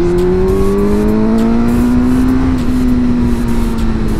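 Suzuki GSX-R 600 K4 sport motorcycle accelerating on the road, a loud close engine whine climbing steadily in pitch through the gears with heavy wind rush, and no talk.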